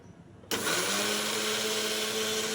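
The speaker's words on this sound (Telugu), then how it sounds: "అల్లం వెల్లుల్లిపాయ పేస్ట్ని ఫుల్గా మిక్సీ పట్టేద్దాం మెత్తగా." An electric mixer grinder kicks on abruptly and whirs loudly and steadily, grinding ginger and garlic into a smooth paste for a village-style chicken and cucumber curry.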